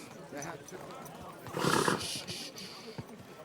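A horse in the medieval game Kingdom Come: Deliverance II, with a short neigh or snort burst amid soft hoof clip-clops, under a voice talking.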